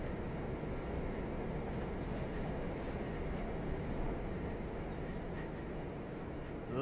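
A Perth metro subway train rides through a tunnel, producing a steady, loud rumble and roar that continues without a break, with no voices.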